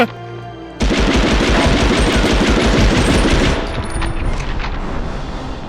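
Sustained automatic gunfire in the 1999 Medal of Honor video game, a loud rapid machine-gun burst starting abruptly after a brief lead-in and continuing with dense rattling shots, easing slightly toward the end.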